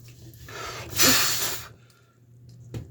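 A person blows a burst of air into a shower drain during an unclogging job with drain cleaner, a single close breathy rush lasting about half a second, then quiet with a faint low hum underneath.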